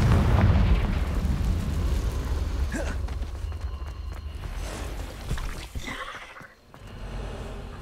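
Spell explosions from Confringo casts in a Harry Potter video game on Xbox Series X, a burst of booming blasts at the start followed by crackling impacts and game effects, loud and continuous with no talk over them.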